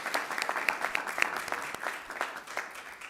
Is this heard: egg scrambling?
no